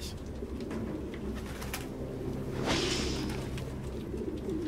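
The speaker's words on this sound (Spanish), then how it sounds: "¿Come palomas o qué hace este hombre con las palomas?" Pigeons in the video game Detroit: Become Human coo softly and repeatedly over a low ambient rumble, with a brief rustling flutter partway through; no one speaks.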